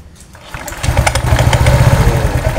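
A Honda Vario 125 scooter's engine cranks and catches after a brief quiet start, then settles into a loud, close, steady running rumble.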